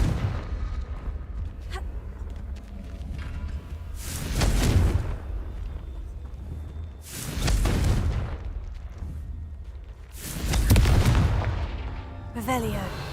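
The Confringo explosive spell in the Hogwarts Legacy game goes off in three heavy booming blasts spaced a few seconds apart, each swelling and fading, with a low background rumble between them.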